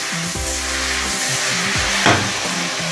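Stir-fried chicken noodles with vegetables are stirred in a hot pan, giving a continuous loud sizzle with scraping stirs up close. Quiet background music plays underneath.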